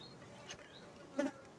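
Faint buzzing of honey bees, Italian bees, with a brief louder pass as one flies close near the end.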